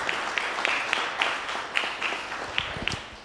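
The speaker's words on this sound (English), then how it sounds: "So let's hear a round of applause" A small audience at a 2019 business competition gives thin, scattered applause, a few dozen distinct claps spread evenly over a few seconds, fairly faint and slightly distant.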